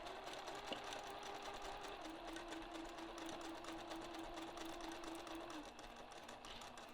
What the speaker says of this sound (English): now I'm going to sew slowly, watching this edge as it goes along the tape.